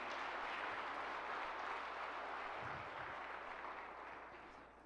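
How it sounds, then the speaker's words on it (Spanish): A church congregation claps together, a dense, steady wash of applause heard from a distance that thins out slightly toward the end. "Dale un fuerte aplauso a ese Dios poderoso"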